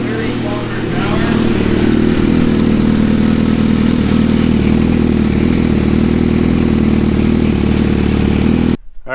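A Suzuki GSX-R1000-engined dune buggy runs in sixth gear at low speed, a loud steady engine drone that holds for about nine seconds before cutting off abruptly.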